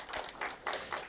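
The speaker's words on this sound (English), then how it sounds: "Give them a round of applause, please." Audience applause at an application security conference talk on cloud security, a short burst of dense clapping with no voices, steady and fairly loud throughout.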